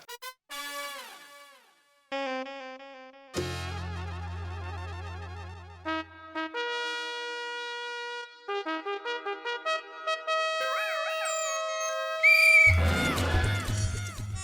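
Shrill whistle toots blown right beside someone's ear, coming in repeated short bursts and longer held notes with shifting pitch, mixed with cartoonish sound effects and a loud noisy burst near the end.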